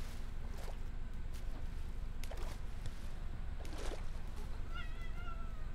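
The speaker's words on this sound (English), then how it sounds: "if you can hear that, that's just my cat" A pet cat meows indoors, a few faint, drawn-out cries at intervals over a low background hum.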